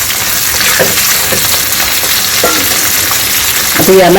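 Fresh red tomatoes fry and soften in a pan for a chutney served with idli and dosa, giving a loud, continuous sizzle with occasional stirring scrapes and no voices.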